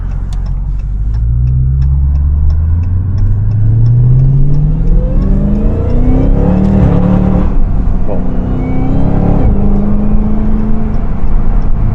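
A powerful 717+ hp Dodge Hellcat engine revs up hard and loud, pitch climbing steadily through gears, close and continuous with no talking.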